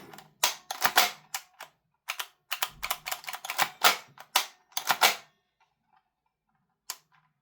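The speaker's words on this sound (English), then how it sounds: "You can hear it reset, but the trigger bar is not actuating it." Trigger of a Maruyama MP9 gas blowback airsoft gun clicking and resetting, a burst of sharp, irregular mechanical clicks close to the mic, then silence and one final isolated click.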